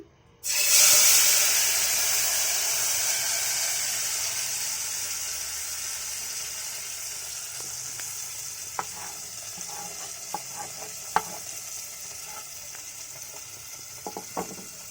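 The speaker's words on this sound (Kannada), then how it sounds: "ಎಣ್ಣೆ ಕಾದಿದೆ ಈಗ ರುಬ್ಬಿರೋ ಮಸಾಲೆನ ಹಾಕ್ಕೊಳ್ಳೋಣ" Ground masala paste drops into hot oil for a village-style fish curry, erupting into a loud, sustained sizzle that slowly settles, with scattered sharp pops and spatters later on.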